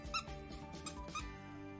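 A Halloween-themed plush dog toy squeaks in a few quick bursts, three sharp, high squeals spaced unevenly over under two seconds, close and fairly loud.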